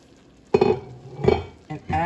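A utensil stirring carrots in a pot roast, giving a few clinking scrapes against the pot at irregular moments under faint background sizzle.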